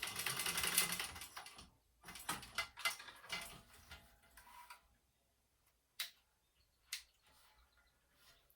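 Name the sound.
sewing machine stitching the second side of a clutch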